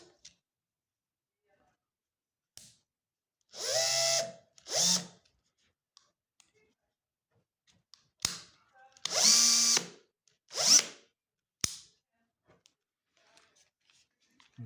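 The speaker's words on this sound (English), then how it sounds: "So this is actually my first electric screwdriver." A Bosch PSB 1800 cordless screwdriver/drill whirs in short spurts, a pair of brief bursts, a pause, then another pair, each high motor whine starting and stopping abruptly against near silence with faint clicks between.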